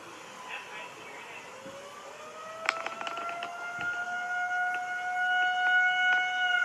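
A tornado siren test in 2022, with a distant civil defense siren winding up as a steady rising wail that grows louder, while brief clicks and faint voices sound nearby.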